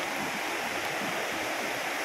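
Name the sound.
water flowing from Bolinao waterfall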